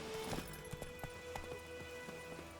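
Horse hooves clop in a steady, quick rhythm while riding in the video game The Witcher 3, moderately faint beneath a humming ambient game background.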